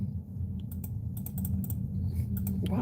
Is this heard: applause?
no